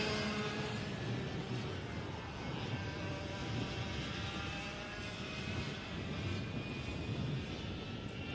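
Micro and Mini racing karts lapping the track at Sonoma, a faint distant buzz of small engines with whining, rising tones layered together, steady throughout with no talk.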